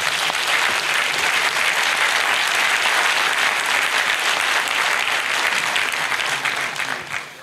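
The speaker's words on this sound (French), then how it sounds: "Je vous demande de l'applaudir." A conference audience breaks into loud, sustained applause that fills the hall for about seven seconds before tapering off at the end.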